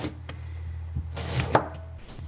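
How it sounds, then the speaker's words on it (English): A knife chops through raw sweet potato on a cutting board in a few sharp, uneven thuds, close and clear with no talking. "So just quickly chopping up our sweet potato."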